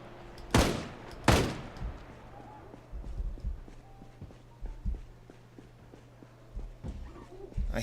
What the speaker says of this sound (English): I hear a zombie banging on glass somewhere.